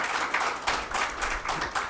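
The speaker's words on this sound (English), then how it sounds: "I will like you all to please applaud for Sanjay ji" A seminar audience claps for a guest speaker at a marketing association event, a dense mass of many hands applauding steadily and fairly loud, with the clapping swelling in waves throughout.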